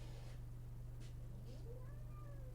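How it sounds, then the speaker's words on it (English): Cats meowing just before a fight: a few rising and falling meows in the second half, moderately close, over a steady low electrical hum with no talking. "Oh, my cats are gonna fight."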